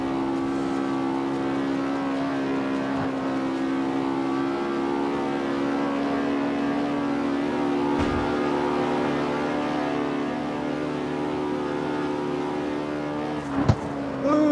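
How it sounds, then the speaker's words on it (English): A BMW in the CarX Street racing game holds a steady, strong engine drone at high revs with little change in pitch, broken by a couple of brief clicks near the end. "That BMW is fairly fast."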